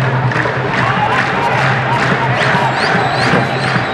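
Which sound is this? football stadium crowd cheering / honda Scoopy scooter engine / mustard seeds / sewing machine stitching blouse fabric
football stadium crowd cheering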